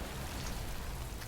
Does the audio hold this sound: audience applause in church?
no